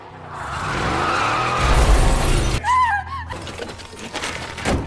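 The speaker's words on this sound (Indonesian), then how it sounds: "sebuah mobil melaju kencang dan berhenti mendadak di dekat gedung" A car speeds up with a rising engine roar near a building, then brakes hard, its tires skidding briefly before a short squeal and rumble fade out.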